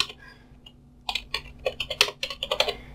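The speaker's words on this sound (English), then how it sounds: "So just type in your terminal dpkg, then --, add architecture." Computer keyboard keys typed at close range as a command is entered in a terminal, with a few isolated taps followed by a quick, irregular burst of clattering keystrokes.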